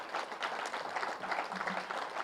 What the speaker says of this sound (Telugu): చాలా చప్పట్లు,